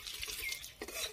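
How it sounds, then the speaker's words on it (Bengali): Bay leaves and whole cumin seeds tempering in hot oil give a brief, close crackle and spatter with a small clink of utensil against the pan. "এই একই তেলে ফোড়নে দিয়ে দেব তেজপাতা, গোটা জিরে, দুটো তেজপাতা"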